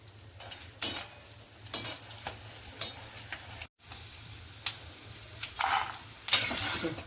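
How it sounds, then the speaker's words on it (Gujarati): Sabudana and potato chakri wafers frying in hot oil give a steady, moderately quiet sizzle broken by sharper crackles and bursts every second or so, with no one talking. "આપણે તેલ આવી ગયું છે, આપણે હવે વેફર તળશું।"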